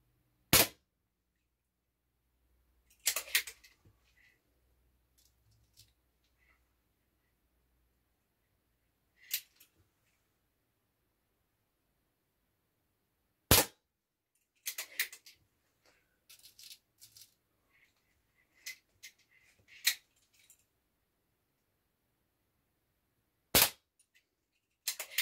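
A Record LP 2 air pistol fires diabolo pellets in a few sharp, isolated cracks spaced seconds apart, each followed by quieter clicks and rattles of handling and reloading, close and loud against near silence.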